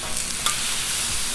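Vegetables sear on a hot Blackstone griddle with a loud, dense hiss that holds steady, plus a faint scrape partway through. No one speaks.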